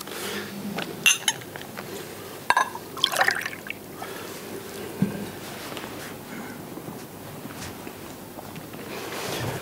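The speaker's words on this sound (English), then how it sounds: "But first I'm going to get a glass of water." Water being poured into a glass by a presenter in a humid room: a few short splashing trickles and clinks near the start, then a quiet room with faint handling sounds.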